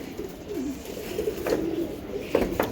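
Soft, throaty cooing from a pair of high-flyer pigeons at a breeding farm repeats in low, wavering phrases close at hand, over a steady background hum.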